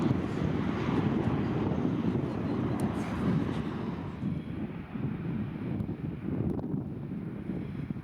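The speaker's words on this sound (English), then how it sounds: "With a signature roar, the iconic Ryanair Boeing 737 streaks skyward, bound for the vibrant city of Naples." A Ryanair Boeing 737 taking off from Lisbon Airport, bound for Naples, gives a steady, loud roar of broad engine noise with wind buffeting the microphone, sustained throughout with no talk.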